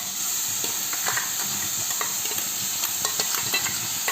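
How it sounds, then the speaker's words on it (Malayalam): Spinach and ground coconut paste being stirred in a hot pan, a steady sizzle broken by soft, irregular scrapes and clicks of the spoon, close and alone with no talk. "അരപ്പിൻ്റെ പച്ചമണം മാറുന്നത് നമുക്കൊന്ന് ഇളക്കി കൊടുക്കാം."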